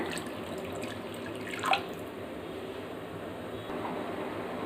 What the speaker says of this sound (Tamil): குழம்புக்கு தகுந்த மாதிரி நான் கொஞ்சமாக தண்ணி சேர்த்துக்கிறேங்க.